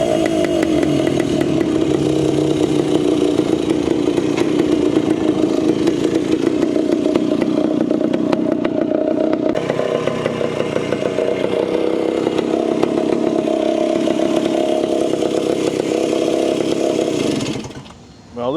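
An old Wankel rotary-engine motorcycle engine runs steadily at idle with a loud, buzzy drone for about seventeen seconds, then cuts off abruptly near the end.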